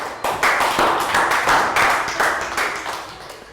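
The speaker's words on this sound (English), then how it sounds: "A round of applause for Prel." A primary-school class claps for a pupil during a science lesson, a close, loud run of rhythmic group claps that fades slightly toward the end.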